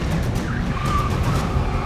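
A rally car at speed on a stage, engine roaring loudly with a gritty, continuous rush of tyres and surface noise and brief squeals, steady and close.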